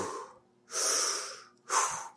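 A voice imitates heavy breathing, two loud breathy exhales after a faint first breath, close and rhythmic like panting after exertion.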